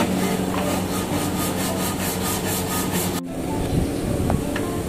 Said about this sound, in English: in this case now we are using this sandpaper belt